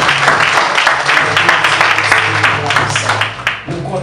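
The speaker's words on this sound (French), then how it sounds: "On va applaudir le Seigneur." A church congregation applauds for the Lord at a Haitian service, dense steady clapping with music playing underneath and faint voices mixed in, sustained throughout before thinning slightly near the end.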